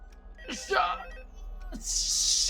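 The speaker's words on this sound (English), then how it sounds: "No phone calls, buddy." Office phone in the game Five Nights at Freddy's rings with a high electronic trill, while a voice talks over it and a breathy gasp cuts in.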